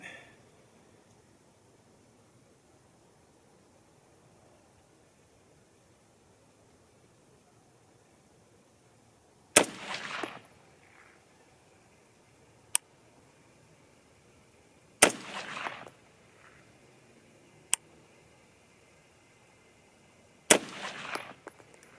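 A 6.5 Creedmoor semi-automatic rifle fired at a target outdoors, three sharp loud shots spaced several seconds apart with quiet gaps and a couple of faint metallic clicks between them.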